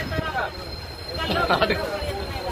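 A train rumbles across a bridge over the Krishna river, a steady rolling clatter with faint metallic squeals, heard under nearby people talking.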